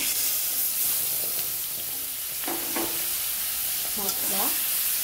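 Taro leaves with a hilsa fish head sautéed with spices in a pan, a loud, steady close sizzle with stirring scrapes and faint clinks throughout.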